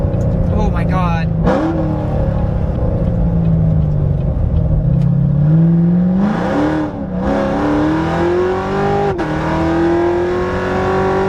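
A supercharged Lingenfelter 720 2016 Corvette C7 Z06 with its exhaust in track mode accelerates hard, engine pitch climbing and dropping through gear changes in a loud, continuous roar.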